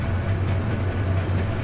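The Turna Express night train pulls out of Feni railway station with a steady, continuous low rumble of rolling wagons, close and even throughout, with no voices.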